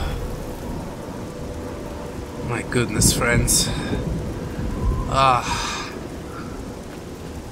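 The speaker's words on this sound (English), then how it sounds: "For the moment, the rain actually feels a bit good." Steady rain falls through a thunderstorm in the video game Oblivion, with two rolling thunder crashes in the middle and a voice speaking over the downpour.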